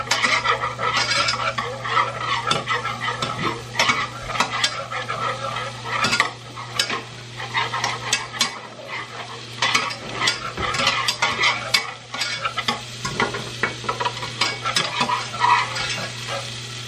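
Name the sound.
food sizzling while cooking in pan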